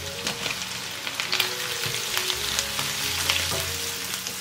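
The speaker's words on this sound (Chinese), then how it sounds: "把我们的茄子放进来翻炒" Eggplant stir-fried in a wok with garlic and chili rings gives a continuous loud sizzle, broken by scraping and clanking strokes from the spatula, with no talking.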